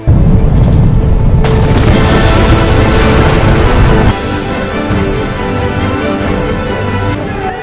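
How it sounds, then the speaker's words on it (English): Cannons fire and wooden warships explode in a film battle scene, a loud sustained roar of blasts and rumble that eases to a lower, steady rumble partway through. "cannons are placed under the ship and 4 ships are exploded"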